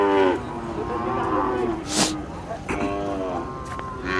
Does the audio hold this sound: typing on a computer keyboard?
no